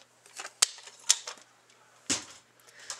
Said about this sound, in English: So now I'm going to fold all my score lines.